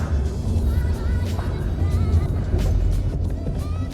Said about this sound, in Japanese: やっぱ147のエンジン音最高なんだよな。